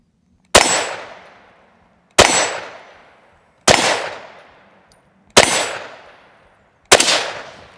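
Five evenly spaced, sharp Ruger American rifle shots fired at a target on a range, each a loud crack with a ringing metallic clang and a decaying tail, with no talking.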